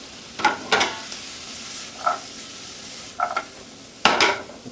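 Onions and carrots cook in a pan for soup, with a low background sizzle broken by a handful of sharp stirring and scraping clatters, close and fairly quiet, with no talking.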